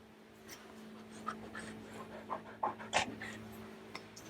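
A dog panting close by on a farm, rapid rhythmic breaths with a few sharper huffs over a low steady hum, no talk.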